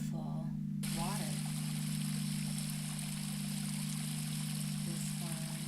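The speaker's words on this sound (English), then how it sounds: "let's put on some beautiful water" A recording of steady, rushing flowing water plays through a sound healing session, a continuous even wash under a low steady hum, with brief talking near the start and end.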